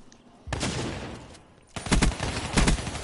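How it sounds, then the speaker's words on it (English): Shotgun blasts in Black Ops 3 gameplay: two broadband bursts of gunfire, the first at about half a second and a louder cluster of sharp reports later, loud and close, with faint voices underneath. "This is a shotgun."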